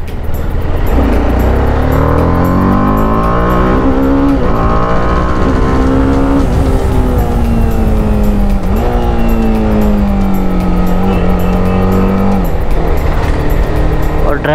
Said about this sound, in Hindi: इसका थ्रॉटल खोलते ही ना।